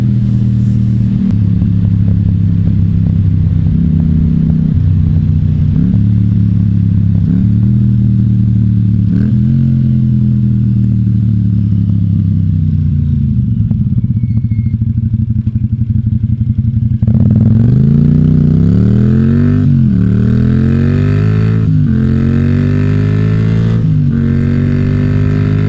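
A Harley motorcycle idles in a loud, close, deep throb, then gives a series of short throttle blips that each dip and recover. A hard rev near the middle climbs and falls in waving pitch sweeps, and no one speaks over the engine.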